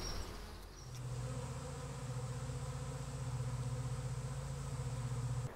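A swarm of bees buzzes inside a couch cushion, a dense, steady drone that swells after the first second and then holds close and continuous to the end.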